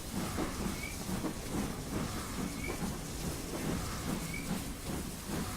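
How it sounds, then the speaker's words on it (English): Electric trains roll by in Train Simulator 2017 with a steady loud rumble and rhythmic clatter, a dense rail noise continuing throughout with no voices. "I hope you guys can hear me over the trains, by the way, because for me, the trains are quite loud"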